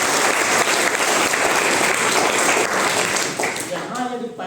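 Loud, dense audience applause in a motivational class for students, sustained clapping that fades near the end as a voice begins to speak.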